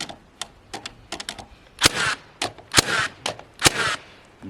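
Nail gun firing into sheeting on the roof of an off-grid cabin with snow damage, a series of sharp, close cracks, a few quick ones spaced apart then several louder shots each followed by a brief hissing tail.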